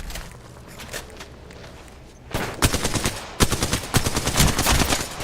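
Rapid automatic gunfire in Apex Legends, starting after a quieter stretch and then bursting in dense, loud volleys with short gaps, mixed with footsteps and game effects.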